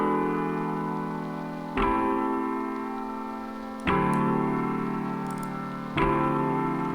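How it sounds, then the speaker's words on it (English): Lo-fi piano from the Keys Lo-Fi Dreamin' preset plays three sustained chords, each struck about every two seconds and left to ring and fade, with a soft ticking texture underneath and no voices. "which is this really nice lo-fi sounding piano,"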